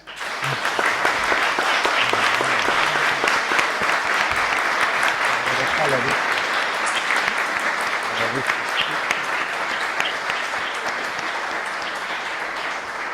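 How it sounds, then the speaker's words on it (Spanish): An audience applauds at length, steady dense clapping filling the hall, with a brief voice or two faintly underneath at points. "pido para ellos un aplauso"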